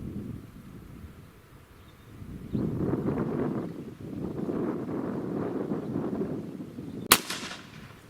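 A rifle fitted with a 5-30x56 first focal plane scope fires a single sharp, loud shot near the end, after several seconds of gusty wind noise buffeting the microphone.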